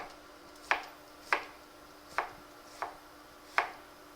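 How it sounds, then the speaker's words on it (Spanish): A kitchen knife chops an onion on a board with five crisp, evenly spaced strokes about a second apart, close and clear over a quiet background, no voices. "A picar la cebolla."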